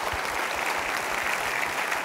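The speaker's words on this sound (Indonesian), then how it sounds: "Kita berikan tepuk tangan dulu." An audience at a live talk applauds, a dense and steady wash of many hands clapping at close range throughout, with no voices over it.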